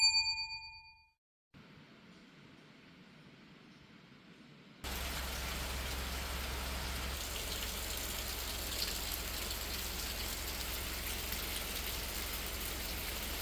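Steady rain falls on a rainy weekend day in rural Korea, a broad even hiss that holds from the middle of the clip to the end, after a few soft chime-like tones and a quieter stretch at the start.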